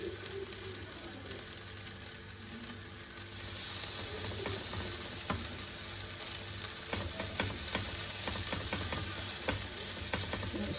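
Zucchini pancakes sizzle in a frying pan, a steady close crackle with clicks and scrapes of a utensil, growing a little louder after the first few seconds, with no talking.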